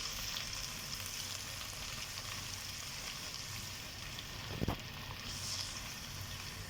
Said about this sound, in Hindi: अदरक लहसुन पेस्ट शामिल करने के बाद इसकी प्याज के अंदर इसकी अच्छी तरह से भुनाई करेंगे